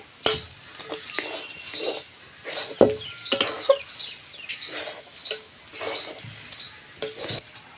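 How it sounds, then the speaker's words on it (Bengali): A spoon stirs semolina dough in a pan with repeated scraping strokes and soft sizzling, an irregular close rhythm of knocks and rubs with no talk. "এইভাবে অনবরত নাড়তে হবে আর একেবারে সুজির গায়ে জলটাকে শুকিয়ে নিতে হবে"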